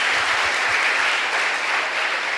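A large audience at a Safe Shop leaders' gathering bursts into dense, loud sustained applause, a continuous wash of many hands clapping with no voices above it.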